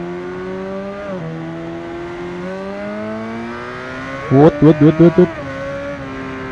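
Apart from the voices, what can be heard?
Kawasaki Ninja ZX-10R 2015 motorcycle engine revving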